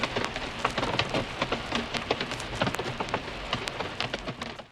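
Steady rain ambience layered with crackly vinyl noise, mixed together as a lo-fi backdrop built from stock plugins in Cubasis 3; dense, even patter with scattered sharp clicks, continuous and alone until it fades out at the end.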